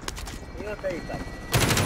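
Gunfire in the video game Call of Duty: Warzone, a loud burst of shots breaking in near the end after a stretch of quieter game sounds and tones.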